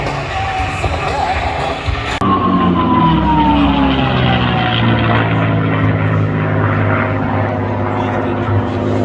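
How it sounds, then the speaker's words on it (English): Propeller race plane making a fast pass at the Pacific Airshow on the Gold Coast, a loud continuous engine roar with a falling Doppler pitch as it passes close by, dense and unbroken throughout. "This thing is an all-out race plane."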